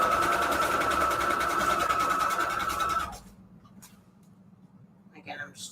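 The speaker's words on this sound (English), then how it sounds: "And I start sewing well before the tissue also." A sewing machine stitches fabric strips together for string quilt patchwork covers, running in a fast, steady whir for about three seconds before stopping. A voice talks briefly afterward.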